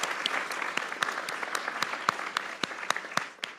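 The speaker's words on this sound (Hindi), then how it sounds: "इंडिया के लिए तालियां।" A small group claps in celebration of India's T20 World Cup win, with sharp, distinct individual claps over a softer patter of applause that thins toward the end.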